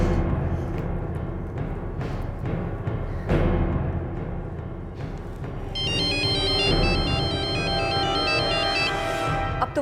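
A phone ringtone starts partway through, a bright repeating electronic melody over a busy background with rumbling and scattered knocks.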